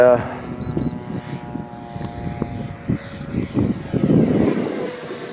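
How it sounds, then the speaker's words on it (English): A radio-controlled P-47 model warplane flies inverted during a scale model air show, its propeller engine droning steadily at mid distance while people talk nearby. "a little inverted flight out of the P-47"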